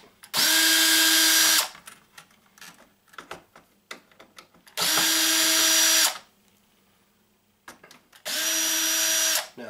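A power drill strips parts from an office phone's circuit board in three loud, close bursts of high whining, each about a second long, separated by quieter clicks and handling noises.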